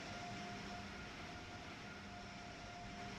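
A train in the Train Sim World 3 video game on the Trenton to New York Northeast Corridor route runs with a steady rumbling drone and a faint tonal hum, continuous and even throughout.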